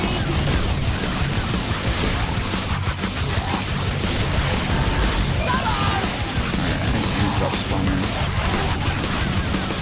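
Dense, continuous gunfire and crashing impacts from a shooter game played with a shotgun against enemies, loud and busy throughout with no pauses.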